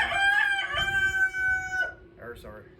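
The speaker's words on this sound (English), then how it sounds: "There's our chickens right now." A rooster crows on a farm, one long drawn-out call, followed by a few shorter clucking notes from the chickens, close by and clear with no talk over it.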